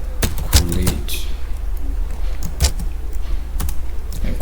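Keys clicking on a computer keyboard while code is entered, with a few distinct close taps at irregular spacing over a low steady hum.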